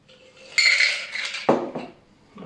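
Ice clinks and rattles in a metal shaker and glass as a rum and ginger beer highball is strained, a few bright clattering bursts close by with no talking.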